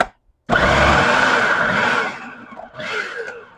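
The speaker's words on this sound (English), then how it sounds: "I'm happy about this new food processor though." A new food processor chopping onions for chow chow: the motor whirs on abruptly and runs loud for about a second and a half, pauses, then gives a second shorter burst.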